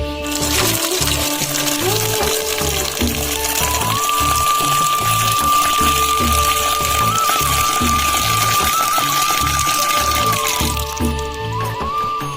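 Cut rose apple pieces being washed in water slosh and splash continuously at close range, under steady background music.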